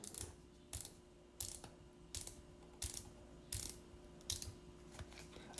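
Rotating bezel on a Certina DS Super PH1000M dive watch, turned in short bursts of quick ratcheting clicks, about eight separate bursts spaced under a second apart, close and crisp with no talking.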